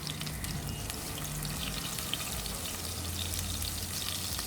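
Onions sauté in oil for a beef sauce, a soft, steady sizzle with faint crackles, quiet and continuous with no voices.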